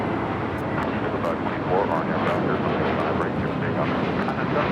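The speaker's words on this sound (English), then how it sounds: "That is United Airlines 493 taking off to Denver on an A321neo" A United Airlines A321neo takes off from LAX bound for Denver, its engines a steady, broad roar that grows a little louder partway through, with people talking over it.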